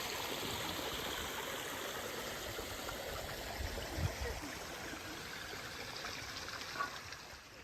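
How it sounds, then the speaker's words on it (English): Water pours down the rocks from one pool into another at Inks Lake State Park, a steady, soft rushing and trickling that stays even and fairly faint throughout, with no voices. "I love how one pool just kind of pours down the rocks and forms another pool."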